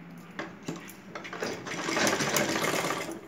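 A sewing machine stitching thread piping onto a blouse: faint clicks at first, then a steady whirring run of stitching that grows louder, with no talk over it.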